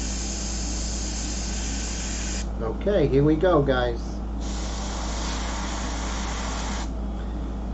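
Steady airbrush hiss sprays paint onto shellac-covered paper throughout, pausing briefly mid-clip while someone speaks a few words, then resuming at an even level.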